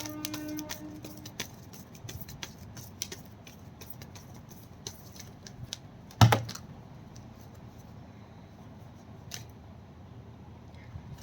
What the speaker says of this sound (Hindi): this is my last shuffle